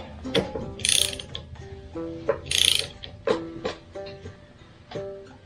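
Metal tool clicks and ratchets on a 1965 Chevy 283 V8 engine while someone pulls off the harmonic balancer, its stripped bolt giving trouble. Close, uneven mechanical clanks and two louder hissing bursts of effort come through, with no talking.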